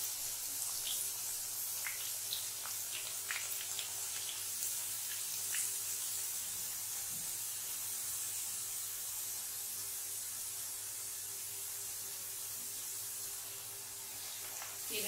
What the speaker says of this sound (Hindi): एक साथ में हम थोड़ा थोड़ा वेफर्स डालते जाएंगे और चलाते हुए फ्राई करेंगे।